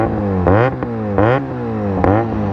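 A Benelli 300TNT with an inline-two engine gives three short, sharp throttle blips close by, each rising quickly in pitch and falling back to a smooth idle between them.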